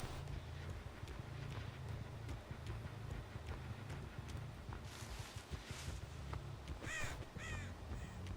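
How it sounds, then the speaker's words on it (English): A bird flaps off with a few quick caws and chirps in a video game near the end, over a steady rushing, wind-like background noise. "Bird flew right there."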